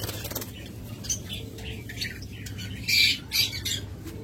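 Pet birds at a bird sale squawk in sharp, scattered bursts up close, with a louder cluster of harsh calls near the end over faint rustling.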